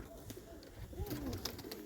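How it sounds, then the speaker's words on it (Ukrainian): Pigeons cooing in a dovecote, a few soft throaty coos up close over faint background rustle, with a brief murmur of a voice nearby. "Отака ось голубочка."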